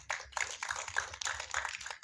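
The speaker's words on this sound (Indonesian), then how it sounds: "Tepuk tangan dulu untuk mereka teman-teman." Applause from a modest audience at a film press conference and screening, with scattered hand claps forming an uneven, fairly quiet patter that lasts about two seconds.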